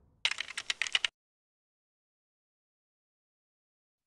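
A quick burst of about eight crisp computer keyboard keystrokes while entering a network username and password, close and clear, followed by near silence.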